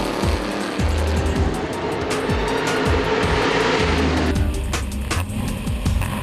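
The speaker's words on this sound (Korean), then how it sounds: "라이벌인 나우키 선수는 김의수 선수가 멈춰선 사이 트랙을 질주하고 있다" A race car speeds along the circuit while its rival's car sits stopped after a crash, engine roaring loud and continuous with repeated high-revving passes and gear changes, with no voices.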